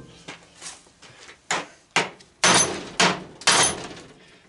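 A hammer strikes a propane regulator being scrapped for brass: sharp, close metallic whacks, spaced at first, then heavier blows landing about every half second toward the end, with no speech.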